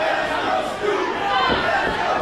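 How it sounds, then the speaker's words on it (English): A pro wrestling crowd cheers for the challenger, a sustained roar of massed voices in a hall, with a commentator talking over it. "And the crowd getting behind the challenger here."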